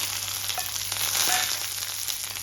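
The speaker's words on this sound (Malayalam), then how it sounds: "കടുക് പൊട്ടിയതിലേക്ക് അതിലേക്ക് നമുക്ക് ഈ ചെറിയ ഉള്ളി ചേർക്കാം" Steady hissing sizzle of small shallots frying in hot oil with popped mustard seeds, for a tender jackfruit pulinkari curry, with a few faint pops and stirring sounds throughout.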